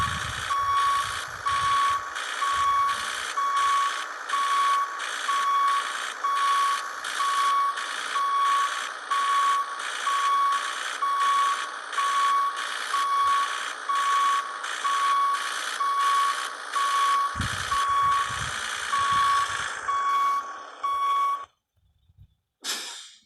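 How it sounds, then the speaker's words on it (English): Reversing beeps from a Volvo F12 truck backing up in Cargo Transport Simulator, a steady rapid series of evenly spaced electronic beeps over a constant engine drone, loud and continuous for about twenty seconds before cutting off. "Now let's back our truck up."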